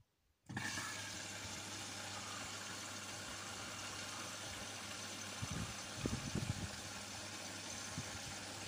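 An Indesit washing machine starts filling with water, a sudden onset of steady rushing inflow with a low mechanical hum beneath, continuing loud and constant with a few faint clunks partway through.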